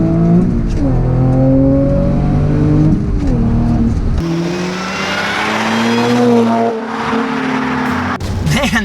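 A 460-horsepower Audi S4 with a six-speed manual and all-wheel drive accelerates hard. The engine note climbs loud and close, drops sharply at a gear change, and then pulls up again.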